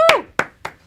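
Four sharp hand claps, close and loud, evenly spaced, with a brief voice over the first.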